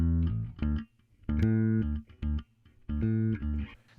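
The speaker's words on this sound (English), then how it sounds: "Let's listen to the bass without SuperCharger first." A dry, unprocessed electric bass plays short, punchy phrases of deep sustained notes separated by brief gaps, heard alone without any compression plugin.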